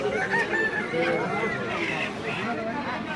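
Native chickens at the Joypara village market in Dohar, Bangladesh, crow and cluck close by while nearby voices and a crowd's babble carry on around them.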